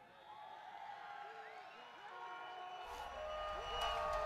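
A football crowd at an Indoor Football League championship bowl game gives a standing ovation, a steady roar of cheering that swells louder toward the end, with whoops rising above it.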